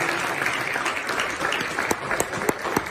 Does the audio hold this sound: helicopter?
no